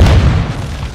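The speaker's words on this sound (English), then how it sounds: "Hostile mortar strike near your position." A heavy, close mortar strike explosion in Call of Duty: Modern Warfare II ground war, a loud low boom that hits at once and rumbles away over a second.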